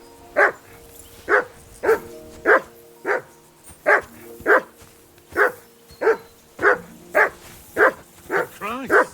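A dog barks repeatedly in the medieval video game Kingdom Come: Deliverance II, loud evenly spaced woofs close by, about fifteen in a row with slight whimpering toward the end.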